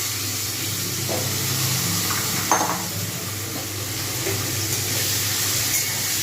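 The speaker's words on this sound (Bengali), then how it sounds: "এবার আমি এতে যে আলুগুলো কেটে রাখা ছিল পরিষ্কার করে ধুয়ে জল ঝরিয়ে রেখে দিয়েছে সেগুলো আমি এর মধ্যে দিয়ে দেবো" Cut potatoes frying in oil in a pan: a steady, dense sizzle with a few faint stirring clinks, fairly loud and close, with no talking.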